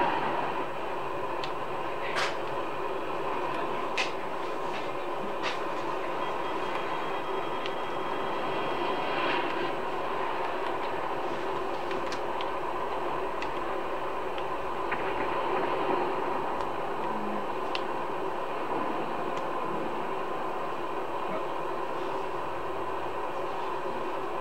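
A military jet in Grand Theft Auto 5 passes overhead, giving a steady, broad roaring rush that fills the whole stretch with faint scattered clicks. No voices.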